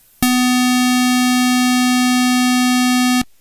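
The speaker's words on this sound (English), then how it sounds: "The square wave also has this interesting type of sound." Steady square wave tone with a buzzy, reed-like timbre and strong harmonics, held evenly at loud volume for about three seconds and then cut off cleanly.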